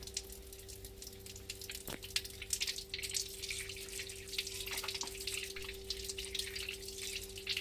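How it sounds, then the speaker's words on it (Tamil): Water runs steadily from the tap of a newly installed instant electric water heater, a continuous hiss with a faint electrical hum beneath it and no voices. "வாட்டர் ஃப்ளோ ஆகுது நல்லாவே"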